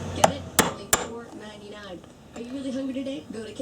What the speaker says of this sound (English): It's just a regular awl that I'm using here.